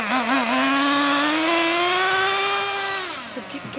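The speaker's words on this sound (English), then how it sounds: "T-MAXX, speed one untuned." Untuned Traxxas T-Maxx RC truck driving, its small engine giving a steady high whine that rises slowly in pitch, holds close and loud, then drops away near the end.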